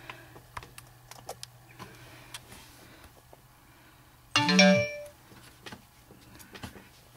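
An iPhone running iOS 4 plays a short incoming text message alert tone, a single bright chime lasting under a second amid faint tapping and quiet background.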